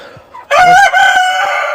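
A rooster crows once, loud and close, a rising strained call that holds and trails off, preceded by a brief soft cluck.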